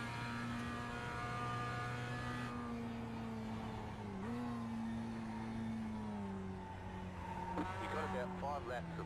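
A race car in a racing video game drones with a steady engine tone that shifts pitch through gear changes, a brief jolt as it bottoms out and a rising rev near the end, with a person talking in the background.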